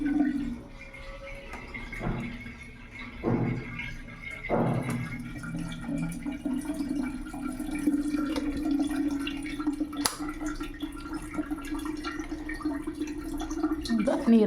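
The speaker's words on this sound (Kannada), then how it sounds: "ತುಂಬ ಜೋರಾಗಿ ಫಾಸ್ಟಾಗಿ ಬರ್ತಾ ಇದೆ ನೀರು." Water from the supply tap gushes fast and hard into a front-load washing machine, a steady rushing stream that runs almost the whole time after a few short knocks and bursts at the start.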